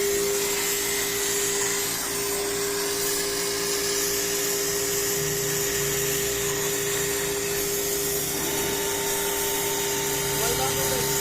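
A wet blasting machine spraying through a newly fitted nozzle gives a loud, steady hiss and whine that holds throughout, close by, with voices faintly underneath.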